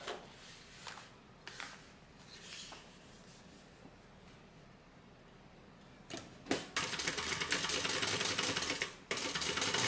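A sewing machine stitches a tote bag, running in a few brief bursts before settling into a steady, loud, continuous run that stops once near the end; no talking.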